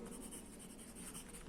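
Marker or chalk scratching across a classroom board during an accounting lesson on gross and net profit ratios, a steady continuous scrawl with no voices.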